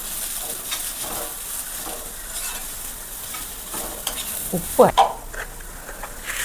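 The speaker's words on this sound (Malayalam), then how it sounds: "നന്നായിട്ടൊന്ന് മിക്സ് ചെയ്ത് കൊടുക്കുക" Padavalam (snake gourd) and egg thoran stirred in a pan, a soft steady sizzle with scraping spoon strokes that swell into a few louder clanks near the end.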